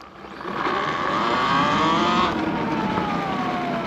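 A Talaria Sting R electric motorbike being ridden, its motor giving a loud, steady rising whine that holds and then eases off, close to the rider.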